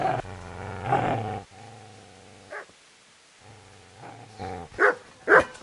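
A dog in the video game Kingdom Come Deliverance growls in long, low, rumbling stretches, then lets out a few sharp, loud barks near the end.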